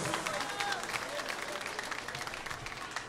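A concert crowd at a live regional Mexican band show applauds for a musician, steady broadband clapping with some cheering and voices mixed in, moderately distant and sustained for the whole stretch.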